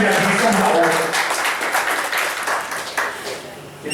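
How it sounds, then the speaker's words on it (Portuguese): An audience in a Brazilian lecture or panel setting claps for the speakers and a professor, producing dense, continuous applause throughout, close and fairly loud, with a few voices mixed into the crowd. "Uma salva de palmas pra gente"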